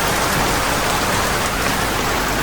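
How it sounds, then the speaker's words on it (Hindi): Heavy rain pours steadily onto a torn sheet-roof shelter at Hundru near Ranchi, a loud, dense, continuous hiss close by with no voices. "इतनी तेज़ बारिश हो रही है कि मैं क्या बताऊँ"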